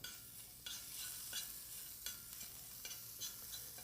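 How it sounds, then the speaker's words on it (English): Minced shallots and garlic sauté in a warm pan, giving a faint, steady sizzle broken by soft scraping as they are stirred around, with no voices. "Give that a quick saute."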